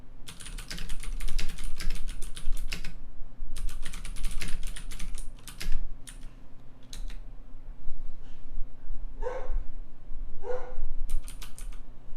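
A dog barks twice at a distance near the end, faintly beneath ongoing bursts of computer keyboard typing and a steady low room hum.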